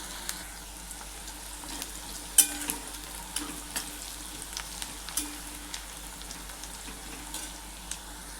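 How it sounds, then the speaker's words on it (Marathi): Onion sautés in a pan until brown, a soft, steady sizzle broken by occasional light clicks and taps of stirring. "कांदा छान ब्राऊन रंग येईपर्यंत आपल्याला परतून घ्यायचा आहे."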